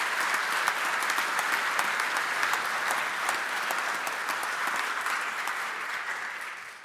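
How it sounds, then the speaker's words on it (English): Sustained, even applause from an audience at a 25th anniversary Holocaust memorial lecture, steady throughout and fading slightly at the end, with no speech over it. "Just a round of applause to everyone who's been involved in this"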